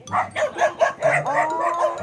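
Several dogs bark repeatedly nearby, loud overlapping yelps and bow-wows in quick succession with some higher yipping and a howling note.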